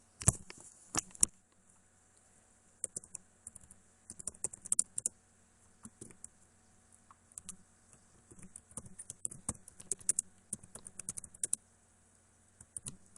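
Computer keyboard typing in bursts of quick clicks with short pauses, close and fairly quiet, no voices.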